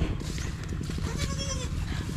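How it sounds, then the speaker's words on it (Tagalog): Pet goats bleating on a farm, including a brown-and-white one, heard as steady repeated calls up close over a dense, busy background, with a faint voice briefly mixed in. "Silipin natin yung mga alaga nating kambing."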